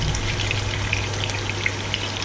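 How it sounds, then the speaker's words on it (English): Lamb and haloumi meatballs frying in a wok give off a steady, close sizzle dotted with small crackling pops throughout, heard alone. "So I'm cooking them in the wok because I do want to make my sauce in the same"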